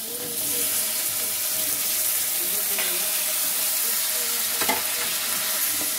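Freshly washed pumpkin pieces tossed into a pan of frying onions for an Andhra-style curry, setting off a loud, close sizzle with stirring scrapes and a couple of sharp clatters against the pan.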